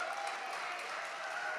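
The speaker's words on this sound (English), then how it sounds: "Big cheer for Bobby." Audience applause at a live music and poetry evening, a steady dense wash of clapping sustained throughout at moderate level with no talk over it.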